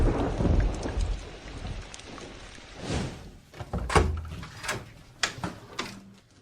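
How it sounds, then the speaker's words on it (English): Rain falling outside during a thunderstorm, with a loud rumble of thunder early on followed by a series of sharp, nearby cracks and thuds over a steady patter. "It's raining outside."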